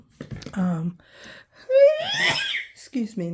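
A single sneeze bursting out at close range, a sharp gasping intake followed by a broad noisy expulsion, set between stretches of someone talking.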